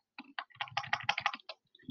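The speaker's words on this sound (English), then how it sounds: "use the arrow keys on the keyboard" Arrow keys on a computer keyboard are tapped in a quick run of close, crisp clicks, a dozen or so presses in under two seconds with no talking.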